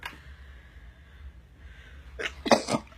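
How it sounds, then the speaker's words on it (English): A single sharp sneeze bursts out near the end after a quiet, still stretch, close and loud. "It always makes me sneeze, so if I sneeze, I'm sorry."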